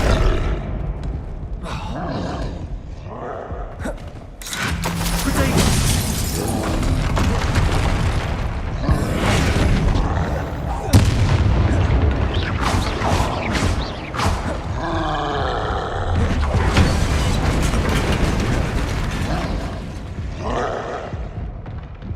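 Spell explosions from the Bombarda charm in the video game Hogwarts Legacy boom and crash repeatedly amid roaring combat noise and grunts, loud and chaotic, with brief quieter gaps between bursts.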